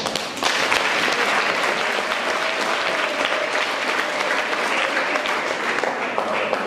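A crowd at an award presentation in South Africa breaks into loud, dense, sustained applause that keeps going at an even level.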